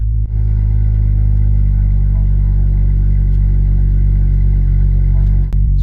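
A BMW M2 engine idles with its exhaust flap open, giving a loud, steady, close deep drone with a brief blip near the end.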